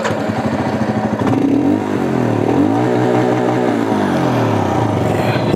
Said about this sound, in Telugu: ఒకసారి ఎగ్జాస్ట్ వినండి మీరు.